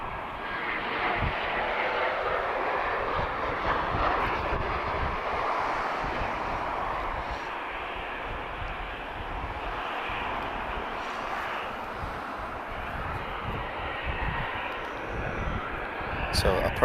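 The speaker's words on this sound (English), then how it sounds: "This is a 737-800 from KLM." A KLM Boeing 737-800 jet airliner inbound from Amsterdam approaches Lisbon Airport, its engines a steady, loud, broad roar sustained throughout, with someone talking over it.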